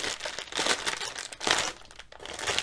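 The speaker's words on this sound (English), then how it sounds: "So I'm going to open up this bag, if we can find the join" A plastic bag with a glue strip being peeled open, giving close, loud bursts of crinkling and tearing plastic in several uneven pulls.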